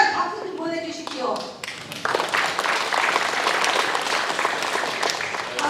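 At a town hall Q&A with residents in Sejong's Hansol-dong, a voice speaks briefly, then a crowd breaks into loud, sustained applause that stays dense and even to the end.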